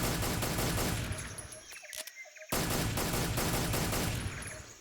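Sustained gunfire from weapons in Metal Gear Solid 3: Snake Eater, dense bursts of automatic shots filling the clip, briefly thinning around the middle before resuming loud and continuous.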